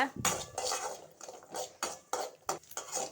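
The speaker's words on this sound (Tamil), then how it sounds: "தேங்காய் நல்லா வறுத்துக்கோங்க." Metal utensils scrape and clatter against a pan in repeated strokes, close by, as coconut is stirred and tossed while frying in ghee for sweet Pongal.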